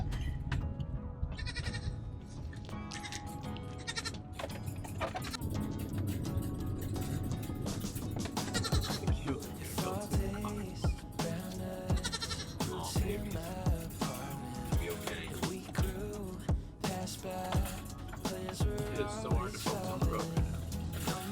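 Nigerian Dwarf goats ride home in a car, their bleats rising now and then among nearly constant close excited talking and laughter over the low hum of the moving vehicle.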